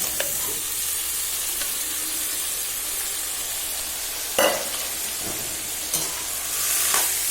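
Boiled chickpeas and potatoes tipped into a hot pan of spiced oil and stirred for a vegetarian chickpea dal, a continuous soft sizzle with a few sharp scraping and clattering stirs of the spoon, close by and with no voices.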